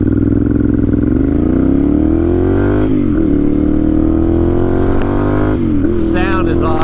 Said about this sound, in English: The sound is awesome. That Ducati sound.